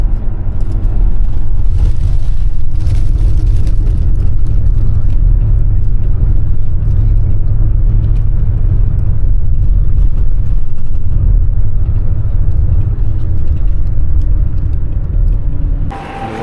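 Interior of a moving bus in Japan, heading to a coastal station: a loud, steady low engine rumble and road drone continue throughout, with no talking.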